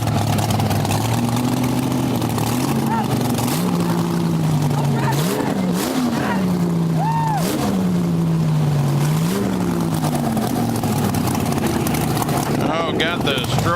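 A Top Fuel dragster engine belonging to Antron Brown revs hard and loud, its pitch rising and dipping in repeated surges over a constant roar, with a voice talking over it.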